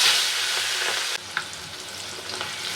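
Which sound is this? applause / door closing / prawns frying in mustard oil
prawns frying in mustard oil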